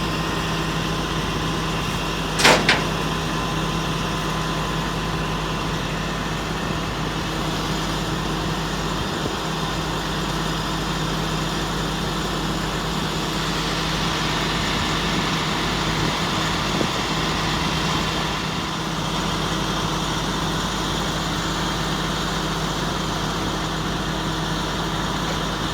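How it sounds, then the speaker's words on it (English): A tow truck engine runs at a steady low rumble while pulling a Honda Odyssey van, with one short sharp click near the start. "So now they are removing it. They are pulling the van down."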